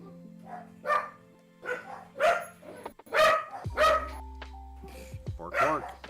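Dogs bark in a home art studio, several short separate barks scattered across the stretch, fairly close but moderate in level, mixed with faint electronic chimes.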